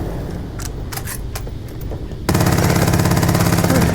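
A Grendel rifle fires in Starfield, a few sharp separate shots and then a loud, fast, continuous burst of automatic gunfire that fills the rest of the clip, with no talking.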